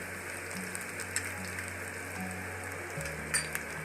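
Garlic, ginger and green chilies fry briefly in a pan, giving a soft, steady sizzling hiss at low volume with a few faint clicks, and no one speaks.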